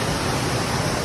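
Spring water pours steadily from a village source pipe near a water tank, a dense, even rushing splash with no breaks, close and fairly loud, with no voices.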